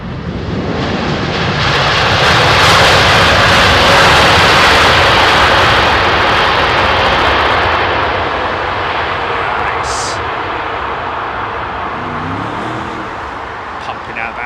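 A heavy jet on runway 27R at Heathrow Airport gives a powerful, sustained roar that swells to a peak and then slowly eases off over several seconds.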